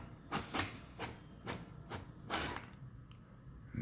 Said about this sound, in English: It's printing out here now.